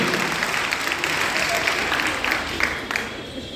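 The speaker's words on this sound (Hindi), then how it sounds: "जोरदार तालियां बजाकर स्वागत कीजिए" Loud welcoming applause from a crowd at a gathering, steady and continuous throughout with no gaps, a dense wash of clapping.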